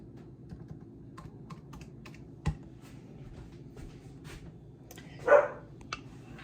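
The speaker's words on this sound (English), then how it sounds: "Wouldn't be a video without Marshall barking." A dog gives one short bark from a little distance on a rainy day at home in Alabama. A faint patter of soft clicks runs through an otherwise quiet room.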